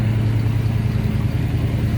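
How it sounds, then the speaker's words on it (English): A 1976 Chevrolet K5 Blazer Chalet idles, its exhaust a steady, loud, deep rumble with an even low throb, close up and uninterrupted. "listen to the exhaust note real quick"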